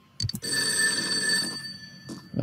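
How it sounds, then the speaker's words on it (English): Telephone ringing in the video game Persona 4 Golden: a bright electronic bell trill that starts after a couple of short knocks and rings steadily, fairly loud and close, with no talk. "The phone is ringing."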